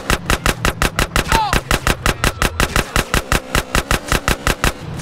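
A long, fast burst of loud, evenly spaced gunshots from GTA San Andreas, close and continuous over a low engine drone, with a brief voice in the middle.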